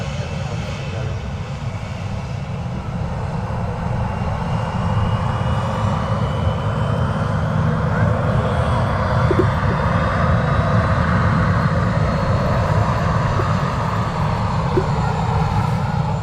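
Jet engines of a Ryanair airliner at Manchester Airport roar steadily at a distance, the broad rumble building slightly and holding throughout with no one speaking.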